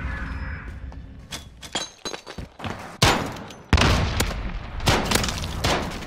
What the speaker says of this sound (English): That was a nade.